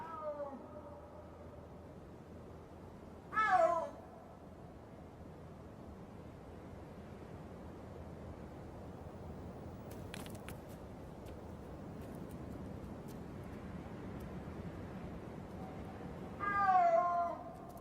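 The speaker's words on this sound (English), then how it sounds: "If they're like other big cats, they may call like this for hours, just coming together and wandering apart." Snow leopard calling in high mountain terrain, two drawn-out wailing yowls well apart, the first early and the second near the end, carrying over a low wind-like background with a quiet stretch between.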